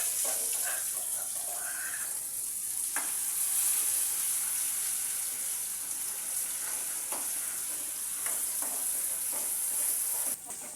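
Spice masala sizzles and fries in hot oil in a home kitchen pan, a steady crackling hiss with occasional clinks of a stirring spoon and faint scraping, continuing without talk.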